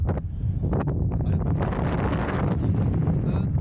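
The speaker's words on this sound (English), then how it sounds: "So there is more wind than I initially thought" Strong gusting wind roars across the microphone while flying a Niviuk Skin 3 single skin paraglider, a steady, close buffeting rush with low rumble that persists throughout.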